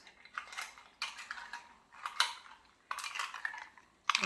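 A spoon stirs mint lassi made with chopped fresh mint, giving bright clinking and scraping strokes in four or five separate bursts with short pauses between, close and fairly quiet.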